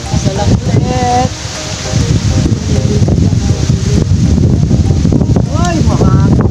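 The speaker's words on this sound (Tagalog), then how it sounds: "Masyadong mahangin." Strong wind buffeting the microphone beside a river while fishing for tilapia, a loud continuous roaring rumble throughout, with someone talking over it.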